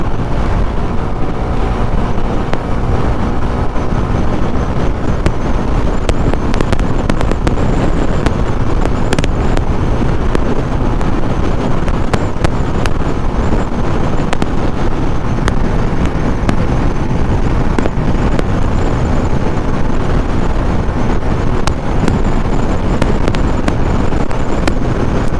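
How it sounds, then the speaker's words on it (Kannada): Heavy wind blasts roar into the microphone on a monsoon motorbike ride toward Sakleshpur, a loud, constant buffeting rush with engine and road noise mixed in, steady for the whole stretch without talk. "ಹೆವಿ ವಿಂಡ್ ಬ್ಲಾಸ್ಟ್ ಇದೆ, ಹೆವಿ ವಿಂಡ್ ಬ್ಲಾಸ್ಟ್."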